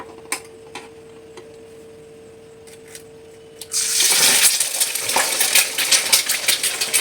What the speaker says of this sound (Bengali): এবার আমি ডিমটা আগে ভেজে ডিম তড়কা করব